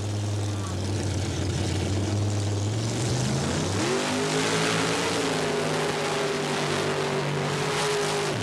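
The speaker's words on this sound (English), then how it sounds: "This is an alcohol-injected nitrous oxide 605 cubic inch Chevrolet in the modified Jeep body." Alcohol-injected, nitrous-fed 605 cubic inch Chevrolet mud racer in a modified Jeep body at a 1990 Panama City mud race, its engine droning steadily and then rising in pitch and holding high, heard from a distance over crowd and field noise.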